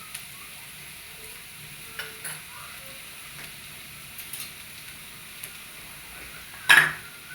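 Onion fries in a pan for phodnichi poli, a faint steady sizzle under scattered soft clinks and stirring taps, ending with one louder scrape of a utensil against the pan.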